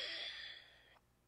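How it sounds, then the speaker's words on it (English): A single soft, breathy ujjayi exhale during a yoga class for hips and side body, with a hissing throat-constricted rush that fades out within a second. "Hear that ujjayi breath."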